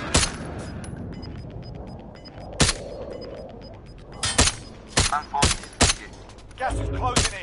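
Gunfire from a video game match: a string of sharp, loud single shots spaced irregularly, with a couple of short bursts near the end, over a low background hum and faint beeps.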